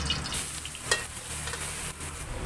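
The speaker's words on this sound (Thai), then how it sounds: "ตั้งกระทะเลยนะคะ ทำการผัดกันได้แล้วนะจ๊ะ" Soft, steady sizzling of garlic stir-frying in a wok, with light scraping and stirring noises, fairly quiet and close.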